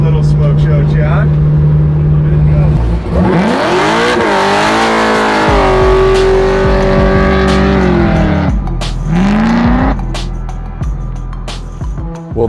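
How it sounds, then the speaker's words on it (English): A 750-horsepower supercharged LSA V8 Chevy Nova pro street car does a burnout, engine roaring up and holding high revs with tire squeal for several seconds, then dropping and surging again before fading. "Just a little smoke show, Chad"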